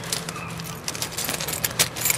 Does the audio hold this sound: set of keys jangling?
yes